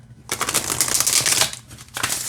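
A deck of witch oracle cards is riffle-shuffled by hand, a close, crisp flurry of rapid card flicks lasting over a second, then a brief pause before a shorter second burst, with no talking.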